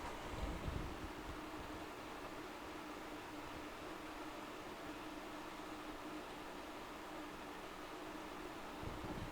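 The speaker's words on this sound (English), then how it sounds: "So what you're hearing now is you're actually hearing the washing machine work." GE dishwasher running a wash cycle with a weak spray arm, a steady rushing water hiss and hum that stays even throughout, fairly faint, no voices.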